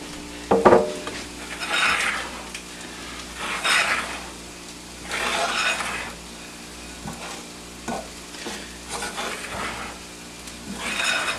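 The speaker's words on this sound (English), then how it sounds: "I like to add mine, or stir mine kind of from the outside to the inside." Sausage gravy with milk gets stirred in a pan, a spoon scraping in repeated sweeping strokes over a soft sizzle, with a sharp clink near the start, close and moderately quiet.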